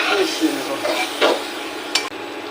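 Stirring chicken curry in a pot: a spoon scrapes and clinks through thick food in several strokes, close up, over a steady sizzle.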